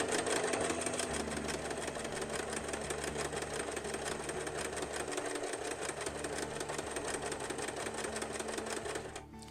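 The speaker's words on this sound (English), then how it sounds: "you stitch for as long as you want your buttonhole to be" A sewing machine stitches a buttonhole in cushion cover fabric, a fast, even mechanical clatter of needle strokes running steadily up close, then cutting off at the end.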